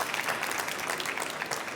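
Audience applause at a start-up pitch event at a trade fair, a steady wash of many hands clapping for under two seconds, moderately loud with no voices on top.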